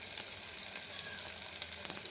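Onions frying in a pan for mutton curry, a continuous close hiss and crackle of oil with faint stirring, steady and low in level without any voice.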